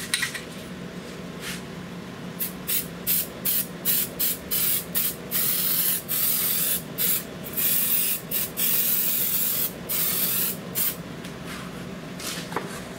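A Fluid Film aerosol can sprays onto the front and rear brake parts of a 2020 Ford Expedition Max Limited. Many short, sharp hissing bursts come close up in an uneven rhythm, separated by brief pauses.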